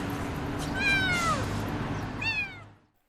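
A four-month-old lost kitten meows twice, a drawn-out falling cry followed by a shorter second call, close and clear over low steady background hum.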